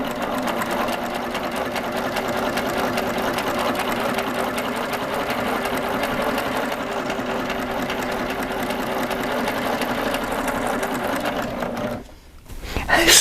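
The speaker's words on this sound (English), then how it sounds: "I'm going to see if I can make a really pretty cord by stitching over cords" A Baby Lock serger runs steadily, stitching over cords with a continuous, fast mechanical whir that holds for about twelve seconds, then cuts out briefly before starting up again at the end.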